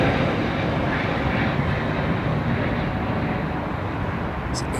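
An aircraft departs London Heathrow Airport, a broad steady engine roar at moderate distance that holds for several seconds and eases slightly at the end, with no talk.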